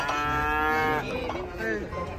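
A cow on a truck moos loudly and close, one long drawn-out call followed by a shorter, wavering second moo.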